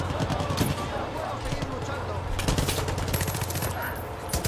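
Automatic machine gun fire in the video game Far Cry 5, dense rapid bursts rattling continuously across the clip at steady loudness, mixed with other battle noise.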